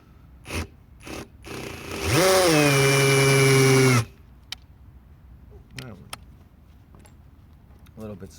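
A Ryobi 18V brushless hammer drill (P1813) whines at high speed for about two seconds, loud and close, dry-firing with nothing in the chuck, with a few sharp clicks and knocks before and after.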